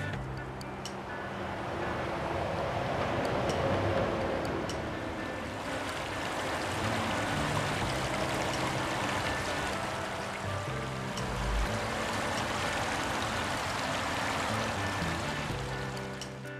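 The Little Sackville River in Lower Sackville, Nova Scotia flows steadily after running high, a continuous close rushing and burbling with no letup.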